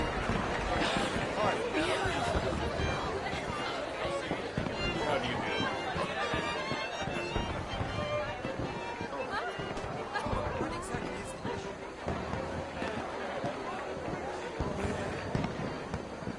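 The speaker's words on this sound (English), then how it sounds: "Let me enjoy the fireworks." Fireworks in the Red Dead Redemption 2 video game: a continuous, dense barrage of crackling pops and bursts at fairly even loudness across the whole span, mixed with background crowd chatter and people talking.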